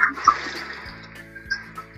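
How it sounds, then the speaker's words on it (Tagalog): Water splashes into a frying pan holding marinated pork and its marinade for a menudo dish, a brief hissing pour that fades over two seconds against low kitchen rumble. "At maglalagay po ako dito ng konting tubig."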